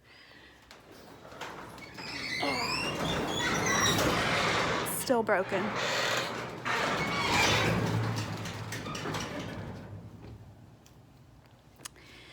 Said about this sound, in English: let me open the garage door